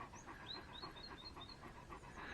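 A hot Abruzzo Maremma dog named Bear panting steadily in quick, even breaths, close by and fairly faint, with no talking.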